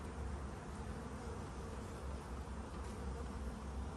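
Honey bees from a weak colony swarm around an open hive, making a steady, close, continuous buzzing drone that holds level throughout with no voices.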